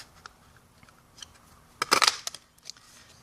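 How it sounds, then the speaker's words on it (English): Decorative label punch cutting a paper scrap, a short burst of crisp clicking and crunching near the end of an otherwise quiet moment, with a few faint taps around it. "we're just going to punch out a scrap of old olive with that punch"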